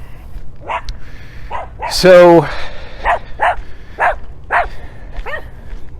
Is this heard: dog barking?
yes